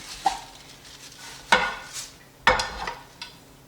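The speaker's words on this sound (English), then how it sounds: "I'm going to lay it into a frying pan" Vegetables drop into a frying pan with a few clattering knocks and a light sizzle, separated by short pauses.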